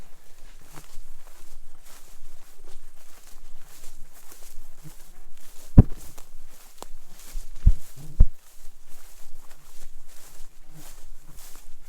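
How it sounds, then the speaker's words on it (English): Footsteps swish and crunch through thick grass at a steady walking pace in Saint Croix State Park, Minnesota, with a few sharper knocks and thumps partway through. "And now this thick grass is slowing me down quite a bit."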